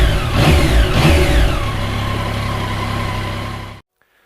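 A 2016 KTM 390 Duke motorcycle engine revs hard at full throttle, loud and close, its pitch sweeping upward in rising pulls before holding a steady high drone, then cutting off abruptly near the end.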